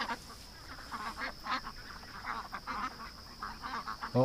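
Ducks herded toward a pen keep up a loose run of quacks over about four seconds, quiet and slightly distant, rising in a louder call at the end.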